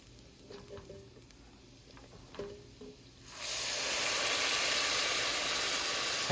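Chicken stock poured into a pot of toasted wild rice bursts into a loud, steady hiss of steam and sizzle after a few quiet seconds of faint clinks.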